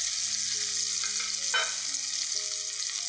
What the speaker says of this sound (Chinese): 我哋先爆香啲虾米先